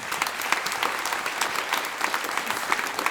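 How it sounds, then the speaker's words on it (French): A theatre audience applauds after an evening-class play performance, dense continuous clapping from a full room, even and moderately loud with no talk over it. "merci de vos applaudissements"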